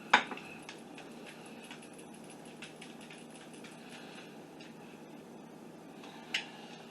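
Kielbasa served onto a platter with dishes and cutlery clinking, a sharp clatter at the start and another near the end, with quieter scattered taps between.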